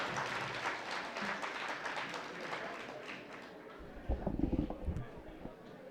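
A crowd at a gathering applauds in a dense, moderate patter that fades out, and a few louder close claps and thumps follow near the end.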